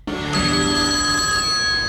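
Telephone bell ringing aboard a Disneyland ride during the park's 35th anniversary celebration, a steady loud continuous ring filling the whole moment with no talk over it.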